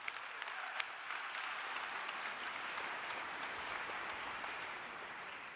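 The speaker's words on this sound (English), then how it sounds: "So let's give it a round of applause to all the amazing things that you have done." Sustained applause from a large keynote audience at RDC 2022, a steady dense wash of clapping with a few sharper claps standing out, even in level throughout with no voices over it.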